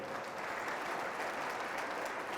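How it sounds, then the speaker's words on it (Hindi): A church congregation breaks into applause, a dense, steady wash of many hands clapping at once that holds at an even, moderate level. "आप ताली बजा सकते हो।"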